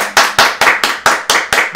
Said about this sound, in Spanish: Felicidades, un aplauso a Néstor Luaces.